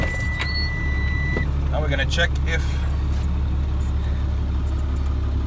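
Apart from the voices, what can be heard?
truck engine starting and idling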